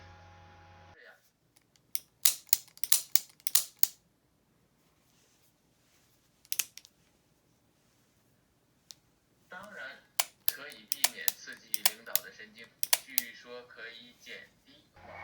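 A few sharp metallic clicks of a handgun dry firing, softened by a rubber O-ring between hammer and firing pin, stand alone in near silence, then a quicker cluster of crisp snaps follows, close and moderately loud.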